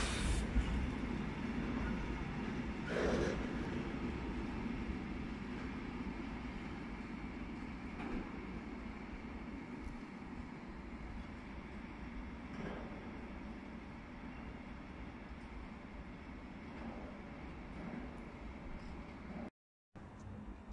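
An ÖBB class 111 locomotive hauling ordinary freight wagons through Passau main station, a steady rolling rumble with occasional clanks of wheels over joints, moderately distant and continuous for about twenty seconds.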